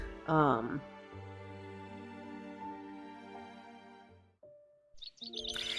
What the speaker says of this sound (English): In that hazy state between sleep and being conscious, I hear birds chirping.